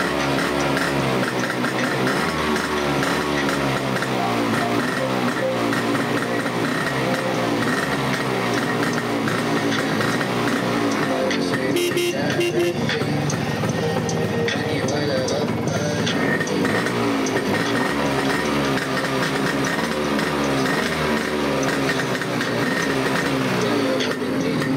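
A 1973 Kawasaki B1 motorcycle with a full-wave electrical conversion runs steadily nearby, its engine a continuous loud drone, with a voice talking over it.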